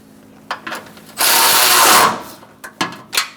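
A ratchet tightens nuts on the radiator mount of a 2012-2017 Hyundai Accent: a few close clicks, a loud sustained ratcheting burst of about a second, then more scattered clicks.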